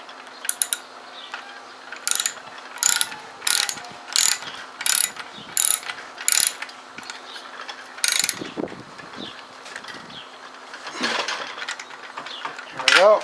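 Ratchet wrench with a five-eighths socket tightening a part on a Bolens BL110 string trimmer during clutch replacement: a series of about eight short, sharp clicking bursts in steady rhythm, close and loud, followed by quieter handling noises.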